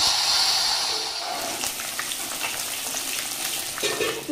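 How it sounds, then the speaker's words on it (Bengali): Live fish fry in well-heated oil, giving a loud, continuous sizzle with sharp hissing bursts at first, then a steady bubbling crackle close by. "আমি আগেই তেল বসিয়ে দিয়েছি, তেল খুব ভালো করে গরম হয়ে গেছে, মাছ দিয়ে দেবো।"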